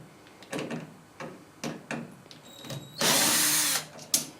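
Screws being backed out of a Whirlpool Diplomat dishwasher door with a power driver, several short whirring bursts followed by one long, loud spin and a final clack.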